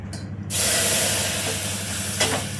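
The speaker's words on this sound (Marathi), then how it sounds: "त्याच्यामध्ये आपण थंड फ्रीजमधलं दूध टाकणार आहोत." Cold milk from the fridge is poured into a pan of roasted flour for red pasta sauce, a loud steady splashing hiss that starts abruptly and continues, with a brief clink near the end and no talk.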